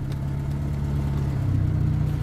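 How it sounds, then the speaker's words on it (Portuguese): A Fiat Uno engine revs with a loud exhaust, a steady, close, droning rumble that holds and swells slightly toward the end. "Tu tá barulhando muito de escapamento,"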